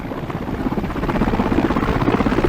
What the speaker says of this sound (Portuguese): Pois é o som de um helicóptero